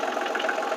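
A Massey Ferguson compact tractor engine idles in neutral with a steady, even rumble and a fine rapid pulse, close and moderately loud, no voices.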